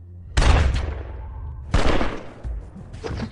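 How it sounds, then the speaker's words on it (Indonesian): Gunfire in the action film Silencer: two or three heavy, booming shots with reverberant decay, close and loud, with no talking. "Frank yang tidak punya banyak waktu pun langsung menembaknya tepat di kepala"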